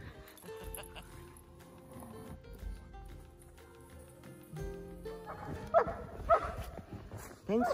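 A dog on a snowy winter trail in Michigan's Upper Peninsula, with soft movement sounds and then several close, sharp barks and yips toward the end.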